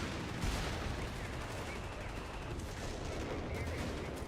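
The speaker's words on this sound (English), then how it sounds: "Oh, little barrage here." An artillery barrage in Company of Heroes 3 rumbles as a continuous mass of distant blasts and gunfire, dense and steady at low volume, with no clear gaps between impacts.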